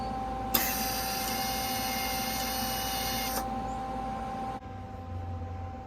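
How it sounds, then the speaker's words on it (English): The small wire-feed motor of a MIG welder runs for about three seconds, a steady whirring drone that starts and stops abruptly against a humming background, with no talking. "the little motor, when I press the red button, it feeds the wire"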